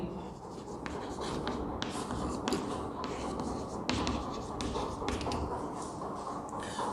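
A teacher writes out a Sanskrit question, likely chalk on a board, producing a steady run of close scratchy strokes punctuated by sharp taps, continuing without pause and with no talking.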